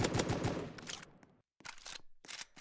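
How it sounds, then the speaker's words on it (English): An AK rifle in the Roblox game Zombie Hunter fires rapid bursts of shots, with a brief gap of silence before more quick clusters of gunfire. "go carry on shooting with my AK"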